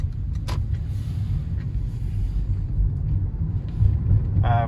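A Toyota car drives along a road, its steady low engine and tyre rumble heard from inside the cabin, with brief clicks and a short mechanical whir near the end.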